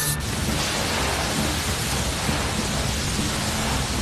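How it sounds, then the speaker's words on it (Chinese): Water gushes from an opened fire hydrant valve in a Fireman Sam cartoon firefighting scene, a loud, steady broadband rush of spray that starts abruptly and holds without pause. "好了，艾维斯，打开水闸"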